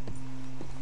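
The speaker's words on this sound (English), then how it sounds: "Is that your horse?" Horse hooves clip-clop in the Western video game Red Dead Redemption 2, a couple of crisp, evenly spaced steps heard up close over a steady low background hum.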